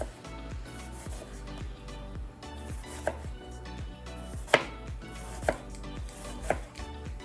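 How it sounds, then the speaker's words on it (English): A knife slices a purple onion thin on a cutting board, giving a steady run of close, crisp chops with a few sharper knocks, over faint background music. "I'm gonna cut the purple onion right now"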